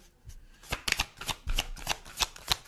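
Tarot cards are handled and drawn from a deck, giving a quick run of crisp papery flicks and slaps, close and distinct, with no talking.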